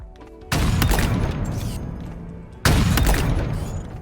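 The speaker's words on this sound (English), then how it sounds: "The explosions are loud and deep." Two deep, loud explosions in the video game Halo Infinite, each a sudden booming blast with a long crackling, rumbling tail, the second arriving about two seconds after the first.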